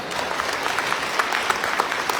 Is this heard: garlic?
no